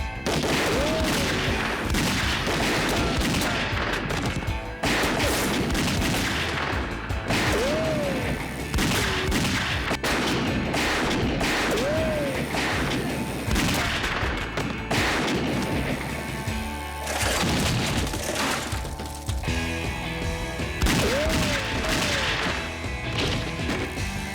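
Gunfire in a TV police drama scene: repeated loud gunshots and bursts crackle across the shootout with crashes and impacts between, dense and close throughout.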